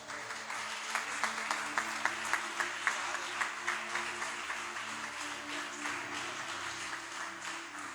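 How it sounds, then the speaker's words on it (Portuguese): A church congregation claps hands in worship, a fairly faint, rhythmic and steady clapping of many people. Distinct beats land about twice a second over a low background hum, with no speech. "glorifica o Senhor com as palmas bem forte"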